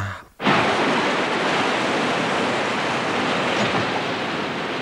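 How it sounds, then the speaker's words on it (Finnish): After a brief quiet moment, a loud, steady roar of strong wind at sea sets in and keeps blowing without pause, broad and unbroken, in a cartoon. "Tuuli yltyy yhä vai?"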